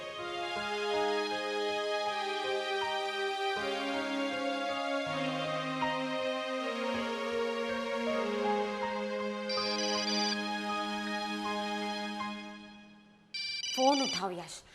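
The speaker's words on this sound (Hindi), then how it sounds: "फोन उठाओ यश, कब तक अवॉइड करोगे?" A phone ringtone plays a looping melody for several seconds, loud and steady, then cuts off near the end with a brief clatter.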